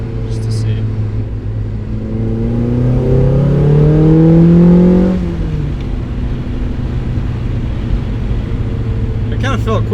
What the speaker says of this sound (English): that was the first full throttle